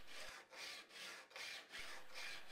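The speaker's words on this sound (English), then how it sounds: "Clamp the file in your vise and then take the scraper and file it on the file" A steel cabinet scraper is filed on a file clamped in a vise, cutting a burr at a right angle to the file. Five or six steady back-and-forth rasping strokes sound close but quiet, with brief pauses between them.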